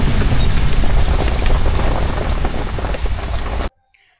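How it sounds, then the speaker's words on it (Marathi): Heavy monsoon rain pours at a hill station, a dense, loud, continuous roar of drops hitting surfaces close by, then cutting off abruptly near the end into near silence. "पाऊस चांगलाच जोरात चालू आहे."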